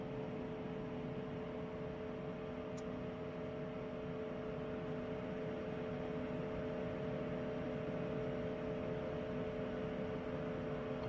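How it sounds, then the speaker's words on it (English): The left engine of an Airbus A220 spools up in Microsoft Flight Simulator 2024, a steady droning whine with a low rumble that holds evenly throughout, heard from inside the cockpit. "Let's go left engine start."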